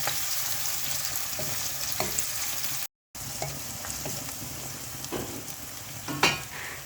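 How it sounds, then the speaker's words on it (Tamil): A large onion sautés in a pan with cardamom and cloves, a steady soft sizzle broken by occasional scraping stirs, with no talking. "ஒரு பெரிய வெங்காயம், வதங்கட்டும்"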